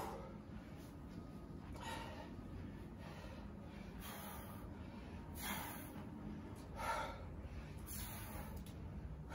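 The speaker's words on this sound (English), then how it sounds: "You can hear my labor breathing." Labored breathing during a hard workout. About seven sharp, gasping breaths repeat at a steady rhythm, each a noisy rush of air, over faint background hum with no talking.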